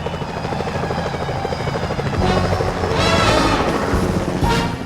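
Security helicopters in the video game Sly Cooper: Thieves in Time make a loud, steady rotor thrum with dense, rapid chopping pulses, swelling a little louder midway and holding close and continuous throughout.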